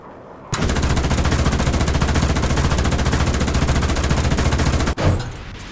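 A vehicle-mounted gun in War Thunder rattles off a long, very loud, fast-cadence burst that starts abruptly and cuts off, followed by a short boom and fading echo.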